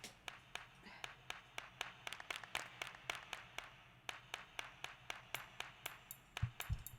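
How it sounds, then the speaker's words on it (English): Sharp, bright claps strike in a steady, quick rhythm, looping like a programmed beat over a faint low pulse. "we have our claps."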